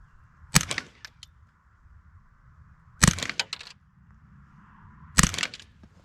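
Three sharp shots from a Ruger AR-556 rifle fitted with a CMMG 22LR conversion ring out at an outdoor range, evenly spaced a couple of seconds apart, each a loud crack with a brief echo.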